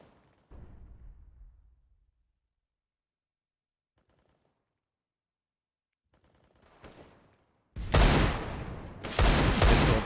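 Gunfire rattles during a Counter-Strike match on the map Cache: a faint early pop, scattered quiet shots, then two loud, dense automatic bursts close together at the end.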